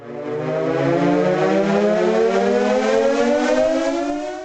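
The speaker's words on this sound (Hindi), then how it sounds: "ये एक ब्रिटिश कार्टर सायरन है। वर्ल्ड वॉर 2 के दौरान ये लोगों को हवाई हमले की वार्निंग देता था।" A British Carter air raid siren from World War II wails loudly and alone, one long sustained rising howl that swells in and holds steady.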